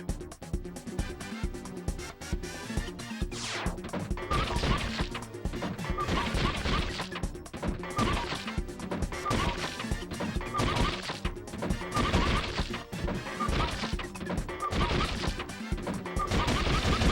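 Gunshots from the Point Blank light-gun game on a PS2 crack out in quick repeated bursts over dense, busy game music and effects, loud and continuous.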